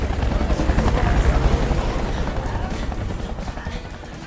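Helicopter carrying heli-skiers among steep mountain terrain, its rotor thumping loud and steady throughout with a dense low roar, easing slightly toward the end.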